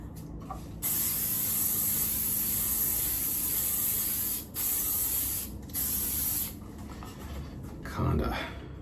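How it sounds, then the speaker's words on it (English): Hairspray from an aerosol can sprays onto styled Elvis-style hair in long continuous hissing bursts, close and loud, with short pauses between them and faint low room noise underneath. "So we need to hairspray it."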